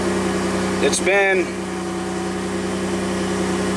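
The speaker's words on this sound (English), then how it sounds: "We're gonna fire it up. It's idling high." The engine of a 3rd-gen Toyota 4Runner, fitted with a performance chip, runs at a steady, high idle under a constant hum, with a brief rising whine near the start and a short spoken phrase over it.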